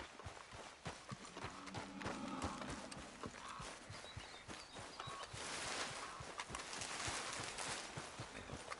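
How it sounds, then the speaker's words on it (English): Horse hooves clip-clopping in Red Dead Redemption 2, a steady quiet rhythm of close hoofbeats on the ground continuing throughout, with faint ambient noise and no speech. "What's wrong with this horse?"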